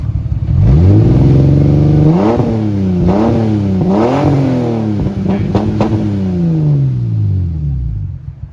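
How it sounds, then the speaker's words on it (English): A car with a blown head gasket revs loudly several times, each blip climbing and falling, with uneven rough idle between the revs and a long drop at the end. "Give it a couple revs."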